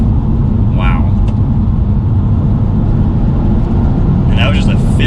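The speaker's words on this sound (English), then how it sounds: "And that was just a 5th gear pull." A BMW M235i coupe pulls hard in 5th gear, its engine a steady loud low rumble heard from inside the cabin, with brief voices over it at the start and end.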